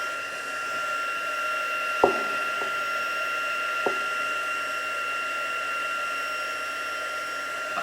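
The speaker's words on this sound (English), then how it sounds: "I'm going to heat dry that" A heat tool blowing steadily while drying paint on an art journal page, a constant whirring hiss with a couple of brief taps from handling, close and alone without speech.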